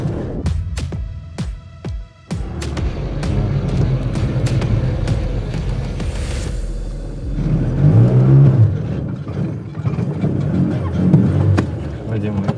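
A Soviet Oka small car drives and accelerates, its engine rumbling and rising steadily under near, continuous talk from people inside, with a few sharp knocks early on.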